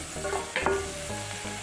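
Potato pieces frying and being stirred in ginger garlic paste in a pan for a dhaba-style aloo and meal maker masala curry, giving a steady close sizzle with a brief scrape of stirring and no talk.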